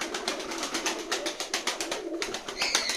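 Pigeons at a Turkish coop flap and coo in a quick run of soft, rhythmic wingbeats and fluttering, close and fairly quiet, with a brighter burst near the end and no voices.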